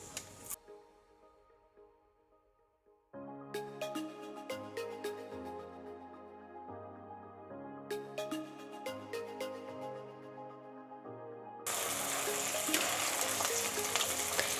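A second batch of fasting-style dahi vadas is dropped into very hot oil, bursting into a loud, dense sizzle near the end after a long stretch of melodic instrumental music; a brief hiss opens the stretch.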